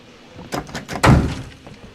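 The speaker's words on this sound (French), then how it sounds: "Il y a quelqu'un qui a fermé la porte." A door slams shut in the horror video game Outlast 2, a single loud heavy thud preceded by softer knocking movement, alone without talk.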